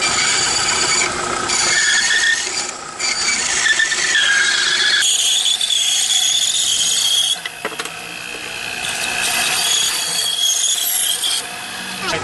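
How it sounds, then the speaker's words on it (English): A tool cutting a small double horn on a Creature From The Black Lagoon box, a loud, close rasping grind that pauses briefly and shifts pitch between several bursts of cutting. "I'm going to cut this little double horn."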